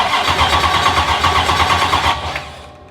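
The engine of a NASCAR drift truck turns over with a rough cranking chatter, then catches and settles into a loud, close idle that fades out near the end, with no voices.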